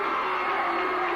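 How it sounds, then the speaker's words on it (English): A loud crowd roars and cheers at a 1982 high school basketball game between Warren Western Reserve and Niles McKinley, a dense continuous wash of shouting and whooping with no distinct speech. "It is going to be an awfully loud crowd tonight, Cap."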